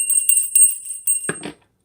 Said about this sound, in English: I'm going to get Ping Ping's little bell